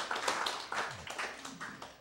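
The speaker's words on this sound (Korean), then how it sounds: "박수 한 번만 해주세요" A congregation claps briefly at a church sermon, a short patter of hands that fades within a couple of seconds, fairly quiet and somewhat distant, with faint voices mixed in.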